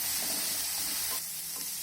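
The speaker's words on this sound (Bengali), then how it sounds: "বিনস আর গাজরটাকে একটু সময় নিয়ে নাড়াচাড়া করে ভেজে নিতে হবে" Beans and carrots stirred and fried in a pan, a dense close sizzle with soft stirring scrapes throughout.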